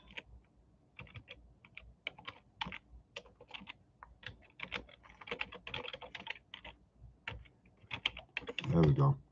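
Fast, uneven typing on a computer keyboard, a dense run of close clicks and clacks with brief pauses, someone speaking intermittently between bursts.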